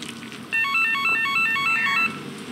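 A phone in the Holstin video game rings with a bright electronic ringtone, a clear repeating melodic trill that plays for about a second and a half over a quiet ambient background.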